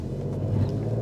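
An Alfa Romeo Stelvio Quadrifoglio engine at launch gives a brief, steady, deep rumble, close and fairly loud with no other sound over it.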